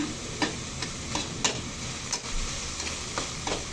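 Ground pork sautéing and being stirred in a pan, a soft continuous sizzle broken by irregular scraping and tapping strokes of a utensil, close and quiet, with no voices.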